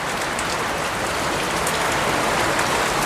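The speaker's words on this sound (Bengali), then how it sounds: "আমরাও বৃষ্টি উপভোগ করি" Rain drums steadily on the tin roof of a house, a dense, unbroken patter that holds even in loudness from start to finish, with no voices.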